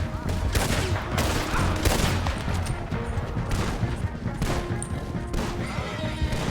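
Gunfire in the Red Dead Redemption 2 video game, a dense continuous barrage of overlapping shots with clattering impacts, loud and unbroken throughout, with shouted voices mixed in.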